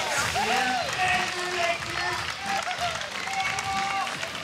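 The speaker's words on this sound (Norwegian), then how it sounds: "Jubelen, den står." A lively outdoor crowd cheers and applauds at the 2018 Death Diving World Championship as a diver performs from the tower. Whoops and whistles ride over continuous clapping throughout, with no speech.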